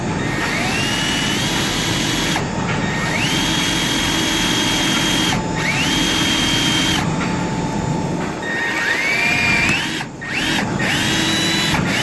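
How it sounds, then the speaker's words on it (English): A power drill whines at high pitch in several bursts, spinning up and cutting out between short pauses, loud and close, drilling out rivets on a roof panel of a 2017-2022 Ford Super Duty truck. "we're just going to drill these rivets right out."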